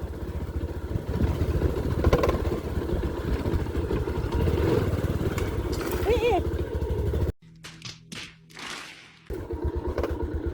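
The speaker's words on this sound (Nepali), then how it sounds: "स्कुटर त यस्तो बाटो हिँडिहाल्छ नि" A scooter on a mountain trail on the way to Pikey Peak runs with a steady, close engine drone for several seconds before cutting briefly to quieter sounds, while people talk over it.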